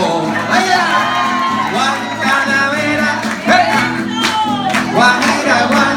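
A crowd at a live music performance shouts, whoops and cheers for the performer, a dense, lively burst of many voices close by with the music going on underneath.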